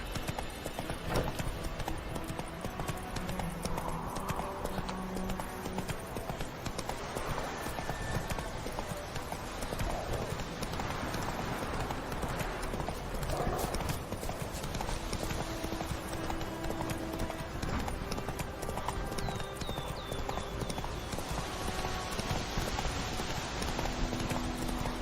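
A horse gallops in the video game The Witcher 3, its hooves drumming in a fast, continuous, close rhythm for the whole stretch over soft game ambience, with no talk.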